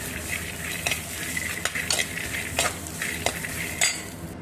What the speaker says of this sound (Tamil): அதுக்காக இதை நான் வறுத்துட்ருக்கேன்.